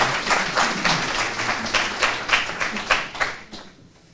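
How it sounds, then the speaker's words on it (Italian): Warm applause from an audience at an evening talk on nuclear energy, dense clapping that runs the whole stretch and gradually thins and fades toward the end. "un bel applauso per introdurla"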